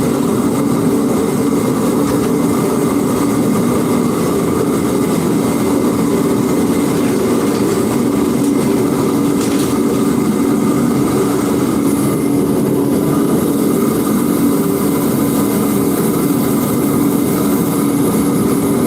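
A loud heater runs to dry a water-based coating, giving off a steady, powerful jet-like roar that holds constant and close throughout with no pauses or speech.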